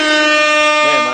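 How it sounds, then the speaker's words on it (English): A loud, sustained air horn blast rings out for over a second at a sports-fan comedy segment, steady and brassy with a slight pitch wobble near the end. "You got the air horn."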